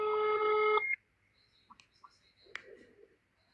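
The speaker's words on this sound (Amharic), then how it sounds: "ቆይ ሳውዲ የደወልኩኝ አንዴ" A phone call being placed to Saudi Arabia: a loud steady electronic tone sounds for under a second, then stops, followed by a few faint scattered beeps and clicks in near silence.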